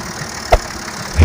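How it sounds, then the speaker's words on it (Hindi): A tractor engine turns over slowly at low revs, a loud, close, steady mechanical rumble with one brief knock partway through and a heavier surge at the end. "ये ट्रैक्टर पे चल रहा है, बिल्कुल स्लो रेस में चल रहा है।"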